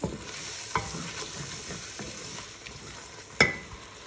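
Shahi chicken roast gravy, made with evaporated milk and chopped green chilies, sizzles and bubbles in a pan as it is stirred, with a steady frying hiss and a couple of sharp spatula clinks.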